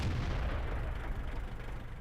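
A tank cannon shot in World of Tanks from the AT7 tank destroyer, a deep low boom with a long rumbling decay, heard alone and fairly quiet.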